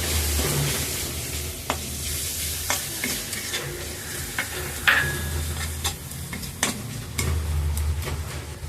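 Cumin powder and homemade chili powder sautéing in a pan, a soft continuous sizzle broken by sharp stirring clicks and scrapes of the spoon against the pan, close up.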